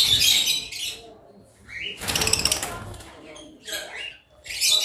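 Caged African lovebirds give sharp chirps and squawks in short bursts, with a rustling, flapping-like burst in the middle and a voice faint beneath the birds.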